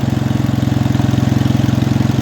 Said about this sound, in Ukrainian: Мотор, звісно, шепче.